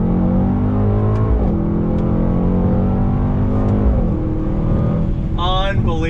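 A 2019 Mercedes-AMG GT 63 S four-door sedan with a twin-turbo V8 accelerates hard through the gears, its loud engine tone rising and then dropping sharply at each upshift, up close and steady throughout.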